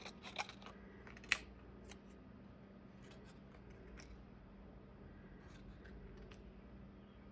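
Scissors snip through lace for collage strips, a few quiet close cuts and clicks near the start over a faint steady background hum, with only soft rustling afterwards.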